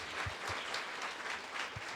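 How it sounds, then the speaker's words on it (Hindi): A church congregation claps at an Easter Sunday service, a continuous patter of many hands with a few louder thumps, moderately loud and filling the room. "तालियां बजाएं इनके लिए।"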